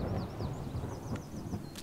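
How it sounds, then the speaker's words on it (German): Rain falls steadily in the video game Garden Witch Life, a soft continuous hiss with faint chirping bird-like tones above and a brief crackle near the end, fairly quiet and without speech. "Okay, es regnet."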